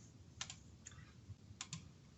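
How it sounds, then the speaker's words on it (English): A computer keyboard gets a few quick bursts of typing during an online town and community council meeting, with soft, scattered key taps over a quiet background. "I was just typing"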